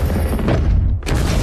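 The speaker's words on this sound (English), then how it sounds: "Louise and Ian are pushed out of the chamber as an explosion occurs inside" A loud, deep boom of an explosion inside a chamber in a science-fiction film, a dense rumbling blast that briefly drops off before a sharp bright burst returns.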